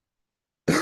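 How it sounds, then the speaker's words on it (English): A single short cough bursts out abruptly after a stretch of silence, close and fairly loud. "I obviously don't like coughing in your face"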